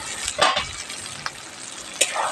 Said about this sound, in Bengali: মশলাটা একটু বেশি ভালোভাবে কষাতে হবে বন্ধুরা